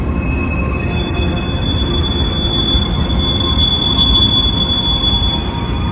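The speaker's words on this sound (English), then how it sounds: "There's a train going off right now." A train runs through downtown Dallas near Dealey Plaza, heard as a loud, steady rumble of wheels on track with high, sustained metallic squeals from the rails over the whole stretch.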